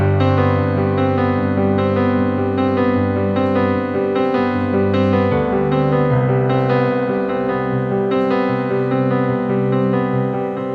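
Sustained chords play on a Nord keyboard, a White Grand piano sound layered with a soft pad, full and steady with shifting bass notes and no talking.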